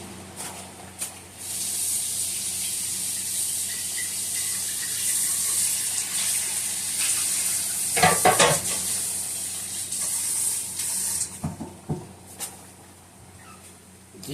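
Pollock fish pieces coated in flour frying in hot oil, a steady bright sizzle running throughout with a few clanks and stirring noises from pots and utensils partway through.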